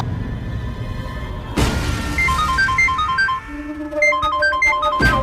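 A phone rings with an incoming call in a television drama, its repeating melodic ringtone chiming clearly in bursts over dramatic background sound, with sharp hits marking the start and end.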